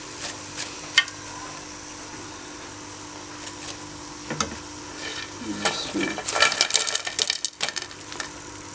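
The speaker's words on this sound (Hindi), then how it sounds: "फ्राई करें इनको।" Mongra pakoras fry in hot oil with a quiet, steady sizzle, broken by scattered clinks and crisp scraping of a utensil that grow busier toward the end.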